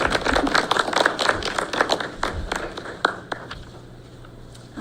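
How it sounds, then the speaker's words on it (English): Applause at a school board meeting: a short burst of scattered hand claps from a small group, loudest at first, then thinning out to a few isolated claps and fading to quiet. "I think that needs a clap."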